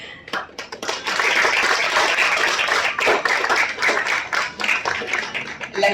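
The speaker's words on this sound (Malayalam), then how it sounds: "നല്ലൊരു കയ്യടി ആവട്ടെ" A crowd applauds at a success celebration for the Malayalam film Thanupp, dense clapping sustained and loud across the whole stretch, with faint voices mixed in.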